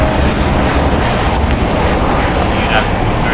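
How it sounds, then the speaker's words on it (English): United Airlines Boeing 787-9 Dreamliner, eight years old, jet engines roaring steadily and loudly at LAX, a broad continuous rumble with no break, while a voice talks faintly underneath. "It's a Boeing 787-9 Dreamliner, 8 years old."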